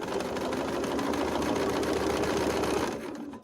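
Quilt blocks run through a sewing machine in one steady burst of fast, even mechanical whirring, close and continuous for about three seconds before stopping abruptly.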